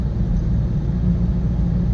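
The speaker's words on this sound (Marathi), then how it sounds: "इथं पन्नासच्या स्पीडने गाडी चाललेली आहे" A car travels at about fifty km/h on a smooth road near Shahapur, on the way to the Samruddhi Mahamarg. A steady, close, low road-and-engine rumble holds evenly throughout with no breaks.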